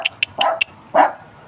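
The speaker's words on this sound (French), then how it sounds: "On a des petits chiens par ici qui aboient un petit peu du matin au soir" Small dogs bark nearby: a quick run of sharp, high yips followed by a fuller bark, loud and close in an otherwise quiet setting.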